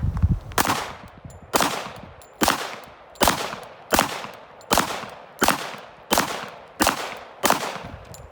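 Nine sharp .45 ACP pistol shots ring out at targets in an even, rapid rhythm, each loud crack trailing a short echo, with no voices.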